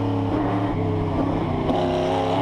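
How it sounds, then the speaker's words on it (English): A historic touring car at Bathurst, its engine droning loud and near as it drops down the gears, with pitch steps as revs fall and sharp crackling pops of backfire. "Listen to the backfire down the gears"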